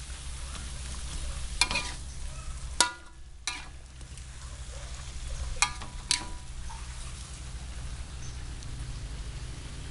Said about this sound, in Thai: พอผัดไปสักพักเราก็จะใส่มะเขือเทศลงไปนะครับ